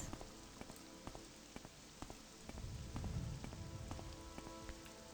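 Rain falls in the Morrowind video game world, a faint, even patter with scattered distinct drips and a slightly heavier wash midway.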